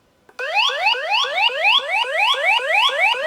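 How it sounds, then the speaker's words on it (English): An X-Sense SC07-WX smart smoke and carbon monoxide alarm blares suddenly, repeating rapid rising sweeps in a steady loop, loud and close, with no voices. "Oh no! Smoke alarm is triggered!"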